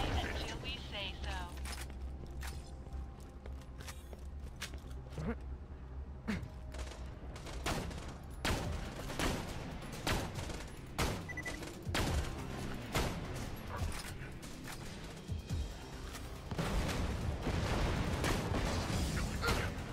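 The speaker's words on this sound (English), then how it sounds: "See, look at those missiles!" Rapid bursts of gunfire and sharp blasts from enemy missiles in the Borderlands 2 video game, dense and loud throughout, with a voice talking over the barrage.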